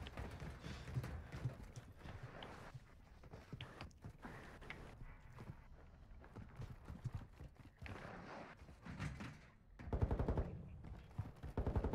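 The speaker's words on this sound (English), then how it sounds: "I'm just shooting a bot" Irregular gunshots ring out while shooting a bot in DMZ, scattered bursts of varying loudness, with a heavier cluster of shots near the end over quieter background ambience.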